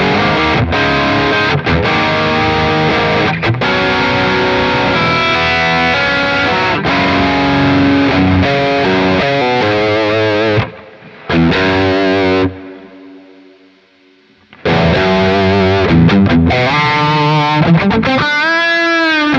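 Distorted electric guitar played through an EL34 amp model on a Quad Cortex, with chunky overdriven chords and riffs, a brief drop near the middle, a short pause into near silence, then heavy playing returning.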